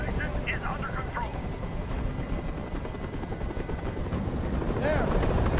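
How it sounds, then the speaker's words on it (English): Helicopter hovering in the video game Detroit: Become Human, a steady loud rotor roar filling the whole clip, with a voice shouting over it. "Tell that helicopter to get out of here!"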